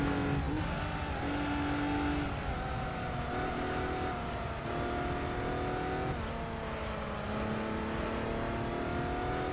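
A Volkswagen-derived four-wheel-drive race car in Gran Turismo 3 accelerates steadily, its engine note climbing and shifting through gears in a continuous loud drone, with occasional pitch drops between shifts.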